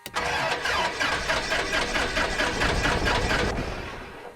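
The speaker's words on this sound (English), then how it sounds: "Now we're going to start the engine here." An aircraft engine in the X-Plane 11 flight simulator cranks and starts, a loud, rapid rhythmic chugging that holds steady for a few seconds before cutting off abruptly.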